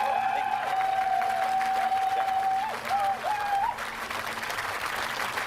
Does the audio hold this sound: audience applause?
yes